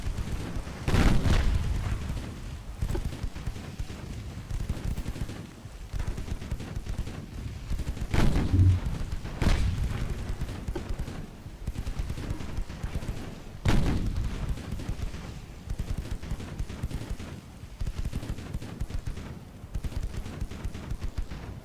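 Warship guns firing high-explosive shells in the naval video game Ultimate Admiral: Dreadnoughts, heard as several deep booming salvos spaced a few seconds apart, each rolling off into a low rumble with no talk over them.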